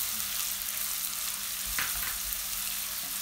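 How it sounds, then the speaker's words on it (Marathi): Chopped onion sautéing in hot oil in a pan, an even close crackling sizzle with one brief stir or clatter midway, no voices. "आता आपलं तेल गरम झालं की आपण त्यात कांदा घालूया आणि 2 मिनटं आपण कांदा हा परतून घेऊया."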